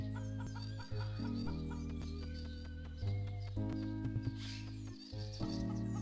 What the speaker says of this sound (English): Look at chicken.